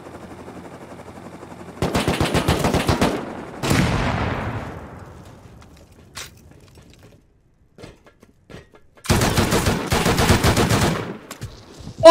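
Video game gunfire in rapid automatic bursts: a long burst, a booming shot with a decaying tail, scattered single shots, then another long burst, loud and close with no talking.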